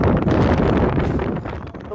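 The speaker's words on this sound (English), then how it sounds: "We made our last crossing from Madeira to Tenerife, and it was very windy" Strong wind at sea aboard a sailing ship crossing from Madeira to Tenerife at over 10 knots, a loud close buffeting roar against the microphone with rushing, gusty texture throughout.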